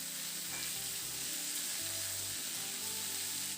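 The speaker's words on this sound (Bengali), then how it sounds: "এবার নাড়াচাড়া করে আদা রসুনের কাঁচা গন্ধ না যাওয়া পর্যন্ত খুব ভালো করে মশলাটাকে কষিয়ে নিতে হবে" Potato, pumpkin, ginger-garlic paste and tomato stir-fry in hot oil in a pan, a continuous close sizzle and crackle with a spoon scraping and turning the mixture, steady and loud throughout, no talking.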